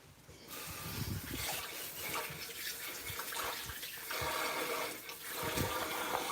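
A kitchen water tap runs and sprays, giving a steady close hiss and splash with small spattering variations. It continues for several seconds with no voices.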